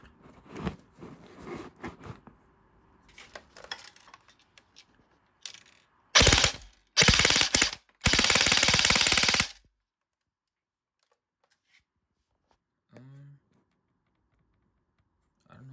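An FN SCAR L airsoft rifle fires full-auto through a chronograph in three loud, close, rapid bursts, the last lasting over a second, followed by near silence with faint clicks.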